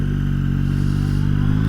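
A Yamaha MT-09 Y-AMT three-cylinder motorcycle engine runs steady and loud close by, with a continuous low mechanical drone and a slight clattering texture, and no voices over it.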